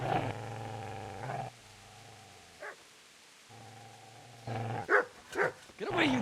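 A dog growls in the medieval game Kingdom Come Deliverance, with a few low, rumbling snarls separated by quiet pauses. Sharper, snappier bursts come near the end.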